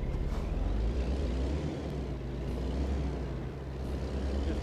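Truck engine in the American Truck Simulator video game, a steady low diesel rumble driving along continuously at moderate level with no talk.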